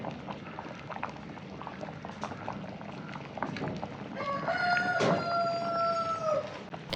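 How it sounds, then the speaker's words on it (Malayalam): Fish curry bubbles in a pot with soft, continuous boiling and occasional pops, fairly quiet and close, while a rooster crows faintly in the background partway through. "അപ്പോൾ കറി ഒന്ന് നന്നായിട്ടൊന്ന് തിളച്ചൊന്ന് റെഡിയായി വരട്ടെ."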